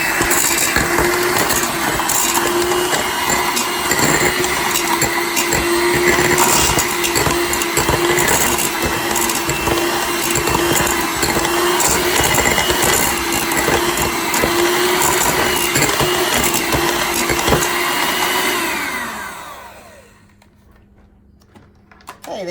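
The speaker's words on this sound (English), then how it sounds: "we're just gonna use the mixer to shred it up" An electric mixer shreds cooked chicken for soup, a loud steady motor whir with rattling, clattering texture running continuously for about 19 seconds before winding down and stopping, with no talking.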